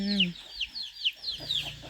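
Chickens cluck around a rural village home in Laos: a run of short, sharp, evenly spaced clucks close by, with a brief lower voiced tone at the start and a softer patter of clucks near the end.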